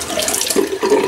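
Tap water runs into a sink during a rinse after a wet head shave, a short, loud, continuous splashing stream with slight shifts in flow and no voices.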